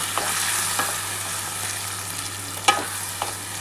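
Tawa chicken stirred in masala-laced water, a soft steady sizzle with a few sharp scraping knocks of the spoon against the pan, close and alone.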